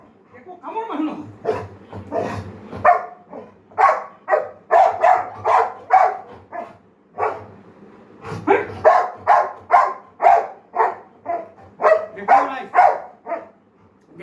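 A dog barking repeatedly in quick runs of loud barks close by, with short pauses and some whimpering, no talk.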